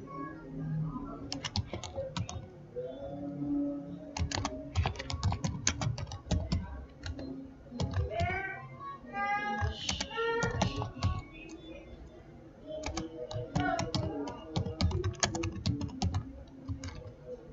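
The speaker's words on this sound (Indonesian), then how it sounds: "Jadi saya ketikkan" Bursts of typing on a computer keyboard for entering a method description in chemometrics software, with clustered clicking runs separated by short pauses; a cat meows partway through.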